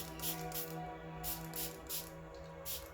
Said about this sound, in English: So I am just going to spray away.